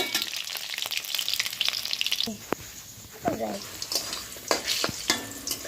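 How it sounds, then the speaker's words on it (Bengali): Small-cut potato pieces frying in oil left over from frying fish, a strong sizzle with spatula stirs and scrapes, the frying briefly easing midway before surging again. "মাছের পিসগুলো নামিয়ে সেই তেলে দিয়ে দিচ্ছি একটা ছোটো ছোটো করে কেটে নেওয়া আলু আলুগুলোকে তিন চার মিনিট সময় নিয়ে ভেজে নেব"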